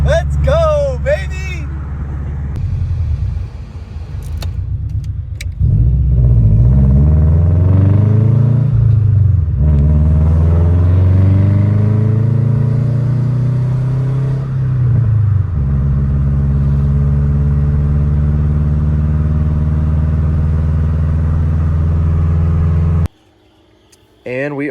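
A repaired turbocharged Subaru engine runs loud and close, rising and falling through several revs with a deep rumble, then cuts off abruptly near the end.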